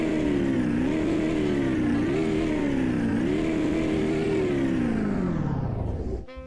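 2025 BMW X7 engine revving in the Greenville driving game: a steady, loud, sustained rev with pitch climbing and dipping in waves, then winding down before cutting off at the end.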